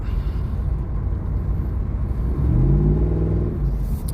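LT1 F-body car engine with the intake snorkel removed, a deep, loud rumble heard from the cabin that swells into a rising acceleration tone midway, then settles back.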